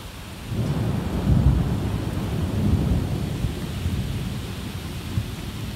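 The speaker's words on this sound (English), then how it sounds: "it's awesome to get a thunderstorm in September" Deep thunder rolls in a long, loud rumble during a severe September thunderstorm in Westfield, Massachusetts, swelling and fading over a steady hiss of rain.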